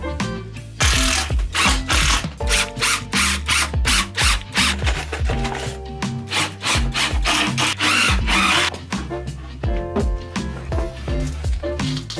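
A drill with a pocket-hole jig grinds screw holes into wood for a desk in short, repeated bursts, with rhythmic rubbing and ratcheting scrapes, close and fairly loud throughout.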